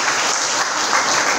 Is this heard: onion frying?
no